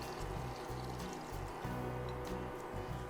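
Broth poured into a pot of potatoes and chicken for Chrissy Teigen's chicken and dumplings, a steady liquid splash and trickle running throughout under low rumbling kitchen background, with no talking.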